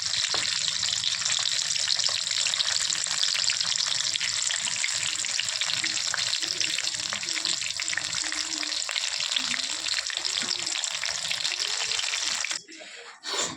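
Eggplant pieces fry in hot oil with a loud, steady sizzle that fills the whole stretch, with occasional stirring noises, before the sizzle drops away abruptly near the end.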